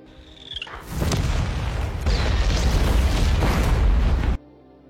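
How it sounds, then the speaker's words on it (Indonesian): Repeated grenade launcher blasts and explosions in an action film scene, a dense roar of loud booms that begins after a brief whistling sound and continues for several seconds before cutting off abruptly. "Tyler yang mengamuk langsung melepaskan tembakan dari senjata pelontar granatnya."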